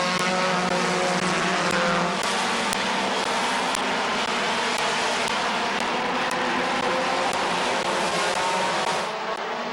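Race cars roar around Midvale Speedway on the final lap, a loud, continuous engine drone with rising and falling revs as cars pass, crowd and track ambience underneath.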